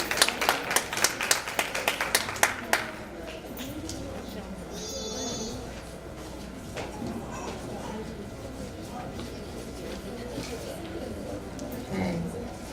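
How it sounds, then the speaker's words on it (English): An audience at a school board meeting claps for about three seconds, a burst of sharp, close hand claps that fades into room murmur and talk. "We can give you a round of applause."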